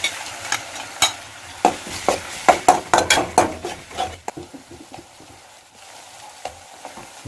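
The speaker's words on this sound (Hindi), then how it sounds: "अब इसमें जो हमने टमाटर उबाल के रखे थे उसे भी ऐड कर देते हैं।" Boiled tomatoes added to frying cauliflower in a pan, a burst of sizzling with repeated spoon clinks and scraping against the pot, close, then settling to a quieter hiss.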